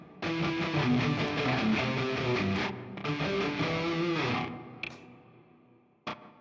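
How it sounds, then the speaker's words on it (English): An electric guitar played through a distortion effect gives dense, sustained crunchy chords for several seconds, a brief break, then more ringing distortion that fades out, ending with a sharp click. "If you have an electric, I would recommend plugging into some distortion or something too."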